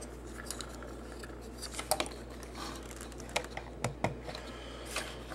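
Plastic parts of a Transformers Animated Voyager Blackout figure being folded by hand: a handful of sharp, close clicks and snaps spaced a second or so apart over a quiet background hum.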